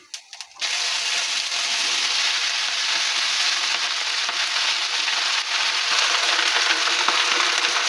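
Chopped spring onion greens hit a hot pan with black cumin, bursting into a loud, dense, steady sizzle at close range that holds unbroken after a brief quiet start.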